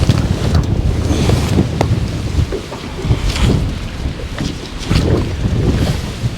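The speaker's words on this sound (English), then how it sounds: "the wind's blowing hard enough to put your rod up there and it blows your rod" Strong wind buffets a fishing boat, a loud, continuous roar of gusts and rumbling microphone wind noise that swells and eases throughout, with no voices heard.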